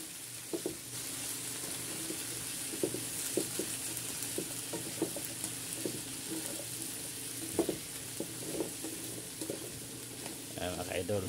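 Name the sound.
stirring sautéed squash, long beans, okra, eggplant and dried fish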